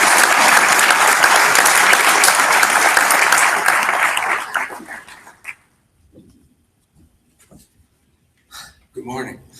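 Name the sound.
audience applause for the summit moderator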